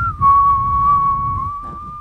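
A person whistles a single sustained, fairly steady high tone as a party trick, loud and close, with brief breaks and a slight wavering near the end.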